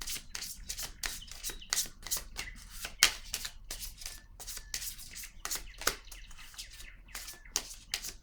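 Playing cards are shuffled and set down on a table in a quick run of crisp, close riffling snaps and soft slaps, with no voice.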